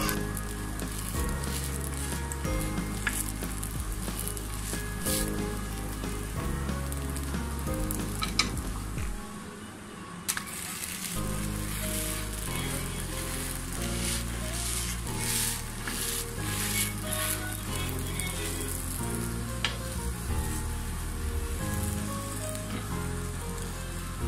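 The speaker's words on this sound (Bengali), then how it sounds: "খুব ভালো করে আমি ভেজে নিচ্ছি।" Aloo paratha frying in soybean oil gives a steady, even sizzle that runs throughout, half-buried under louder background music with no voices.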